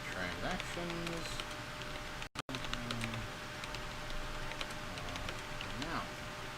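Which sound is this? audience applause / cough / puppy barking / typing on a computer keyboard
typing on a computer keyboard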